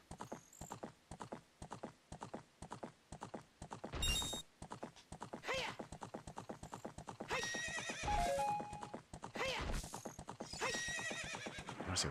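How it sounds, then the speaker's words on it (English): Clip-clop hooves from a horse in the Zelda Spaceworld '97 beta video game trot in a quick, steady rhythm throughout, with several loud whinnies and neighs breaking in over the hoofbeats. "Let me get on the horse"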